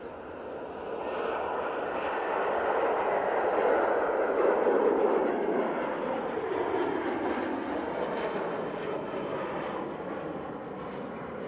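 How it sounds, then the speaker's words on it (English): A KLM Boeing 737-700 on its takeoff roll at Manchester Airport, bound for Amsterdam, sends a swelling jet roar that rises, peaks midway and slowly fades as it climbs away, heard from a distance with no talking. "KLM 737 now on the roll."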